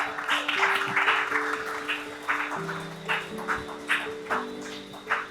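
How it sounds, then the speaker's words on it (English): An audience claps for award winners at a security guard company's quarterly award ceremony, a moderate burst of applause over held music chords that thins into scattered, rhythmic claps toward the end. "Congratulations to all our winners. A round of applause"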